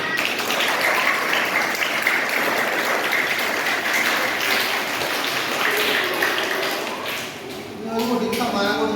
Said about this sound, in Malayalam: കയ്യടിക്കൊണ്ടല്ലാവരും